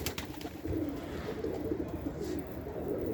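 Domestic pigeons coo in low, throaty, repeated calls close by on a cold Istanbul evening, continuous through the clip with no talking.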